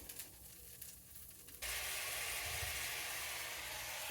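Alligator bites frying in hot oil in a big pan, cooked in batches for a stir fry: after a quiet start, a loud steady sizzle abruptly takes over and hisses continuously and close, with no talking.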